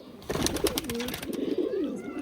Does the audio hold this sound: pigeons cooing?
yes